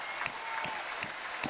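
Stadium crowd applauding president Jean-Michel Aulas at an OL (Lyon) Ligue 1 trophy ceremony, a steady wash of distant clapping with a few louder claps standing out.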